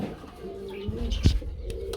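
A pair of original Dubas racer pigeons at a pigeon market coo softly and closely, a low throaty call with a brief louder burst near the middle, alone without talk.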